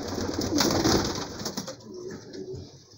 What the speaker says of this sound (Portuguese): Tô vendo um pombo comum ali.